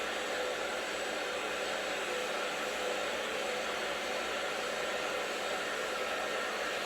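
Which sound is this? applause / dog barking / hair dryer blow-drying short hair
hair dryer blow-drying short hair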